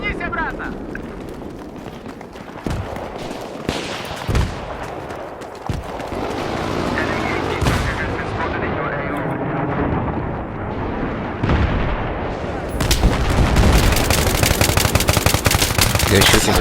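Battlefield 3 gunfire pouring from a building across the way: rapid machine-gun bursts and heavy shots crackle nonstop, loudest near the end, with explosions, a few sharp impacts and voices over the battle.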